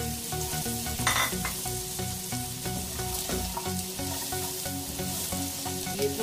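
Capsicum fries for masala rice, sizzling loudly and continuously in a pan with clattering stir strokes and utensil knocks; no voices.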